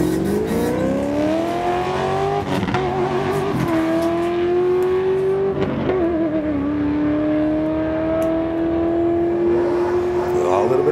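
A drag racing car at a test-and-tune event at Heathcote Park accelerates hard down the track, its loud, sustained engine note climbing in pitch, with brief dips as it shifts through the gears.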